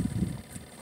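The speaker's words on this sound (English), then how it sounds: "The wind is blowing." Wind blows outdoors in a short, steady rush of low rumbling buffet against the microphone, with no voices.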